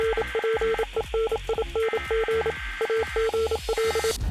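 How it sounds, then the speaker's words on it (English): Morse code transmission from the Fortnite emergency llama broadcast in a video game: rapid electronic beeps in short and long tones, repeated in quick bursts over a crackly radio-like hiss, fairly quiet and with no voice. "The emergency llama is back on screens with a hidden layer of Morse code in the transmission."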